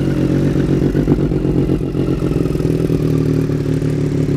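A Triumph Street Triple RS motorcycle with an SC Project aftermarket exhaust idles and revs with a loud, raspy exhaust, steady and close throughout.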